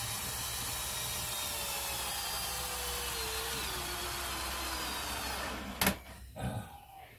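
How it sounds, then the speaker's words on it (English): A power drill whines continuously with a slowly falling pitch, then stops with a sharp click followed by a few brief bumps. "Show us your new drill, Mr. A."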